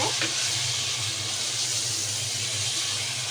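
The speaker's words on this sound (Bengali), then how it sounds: "এখন পেঁয়াজের সাথে আমি মাংসগুলো মিক্স করব" Chopped meat sizzling and being stirred with browned onions in a pot for haleem, a steady dense hiss of frying with faint scraping, close and continuous.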